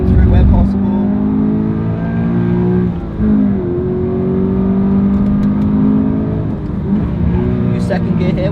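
A Subaru BRZ or Alfa Romeo 4C sports car driven hard on a race track, its engine droning loud and close under full throttle with pitch rising and dipping through gear changes, while a voice talks over it.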